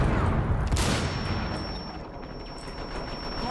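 A burst of rapid, close gunfire in Rainbow Six Siege, then a fading rumble and a thin high ringing tone.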